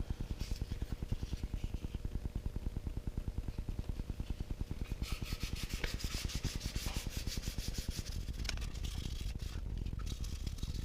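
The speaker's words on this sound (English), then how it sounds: "what I'll do is wet this and then begin sanding" Kydex holster being wet sanded with soapy water, a steady close rhythmic scrubbing and rubbing that runs continuously without talk, growing brighter and grittier partway through.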